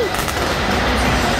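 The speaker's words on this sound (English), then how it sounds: "Trying to get all the fireworks here." Fireworks crackle and pop in a dense, continuous barrage at a Monster Energy Supercross pre-show in Houston, loud and close over crowd noise.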